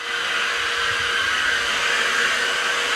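A Dirt Devil 3-in-1 Cordless Reach Max Plus vacuum cleaner runs steadily and close up, a constant broadband whir with no gaps and no voices over it.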